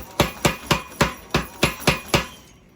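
A hammer strikes a Damascus steel billet during forging, eight sharp ringing blows at an even pace, close and loud, then silence.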